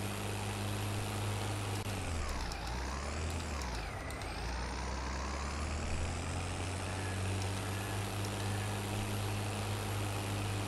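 A tractor engine in the Farming Simulator 22 video game, with an Indian tractor mod, drones steadily with a low, loud hum that dips and swells in pitch around the middle of the clip, with no voices.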